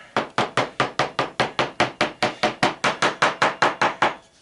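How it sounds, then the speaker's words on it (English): Small hammer tapping on a resin mold part to loosen it, about twenty sharp evenly spaced knocks in a quick steady rhythm, close and loud. "a little hammer might work better."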